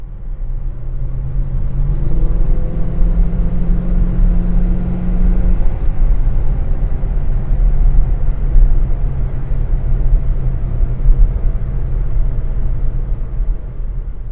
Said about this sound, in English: this nighttime drive of the 69 Eldorado